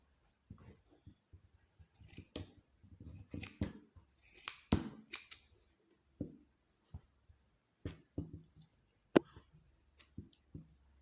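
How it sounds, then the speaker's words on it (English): Scissors snip through a small piece of cloth, making quick crisp clicks in short uneven bursts followed by sparser single snips, close and quiet with silence in between. "You can cut a small cloth."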